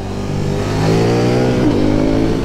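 A KTM Duke 890 motorcycle engine revs up, its pitch climbing and holding as it accelerates, loud and close with no talking.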